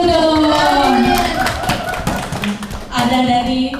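A group of vocational high school students claps during a school talk show in Palembang, with a loud, busy run of hand claps over voices and background music.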